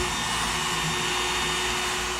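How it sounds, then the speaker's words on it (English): A hair dryer blows hot air onto the base of a mini snow globe during repair, a loud constant whooshing whir that holds steady from start to finish with no talk. "we're going to use the hair dryer to heat up the base and separate it."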